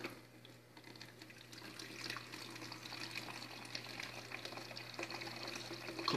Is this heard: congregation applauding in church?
no